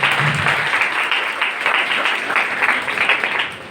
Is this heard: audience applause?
yes